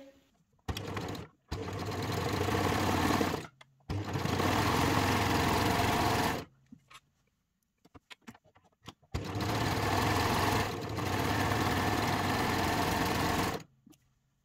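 A sewing machine stitches lace sleeves onto a dress in several loud, steady runs of rapid mechanical whirring, broken by short pauses with faint clicks.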